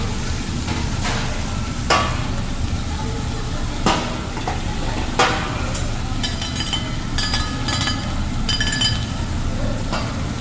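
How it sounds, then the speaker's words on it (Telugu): Rice frying on a hibachi grill beside chicken, shrimp, mushrooms and carrot: steady loud sizzling with repeated metal spatula scrapes and clinks in an uneven rhythm, a voice talking faintly in the background. "ఒక సైడ్ ఏమో రైస్ ఫ్రై చేస్తున్నారు"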